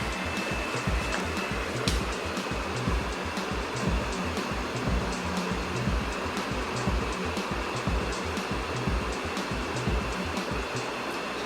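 Flashforge Creator 3 3D printer running its Z auto calibration, a steady close mechanical whir with a constant motor drone and faint clicks throughout, no voices.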